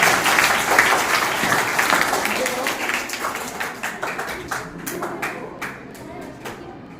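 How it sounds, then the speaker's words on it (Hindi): Schoolchildren clap their hands together in a classroom, a dense burst of applause that thins into scattered separate claps toward the end, with an adult voice talking. "हाँ सभी बच्चों ने स्टेप ताली बजानी है"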